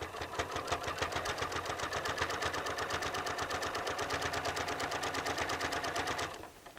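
A sewing machine with an open-toed foot runs a steady straight stitch at about 2.5 length while attaching binding, its rapid even needle clatter continuous and close for several seconds before stopping abruptly near the end.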